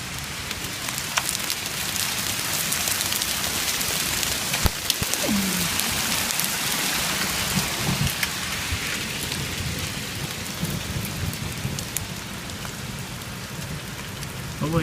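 Hail and heavy rain pound surfaces during a Mother's Day thunderstorm in Vestal, New York, a dense, steady hiss with scattered sharp impacts throughout, nearby and loud.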